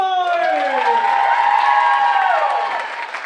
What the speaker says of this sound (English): give another round of applause for our e-board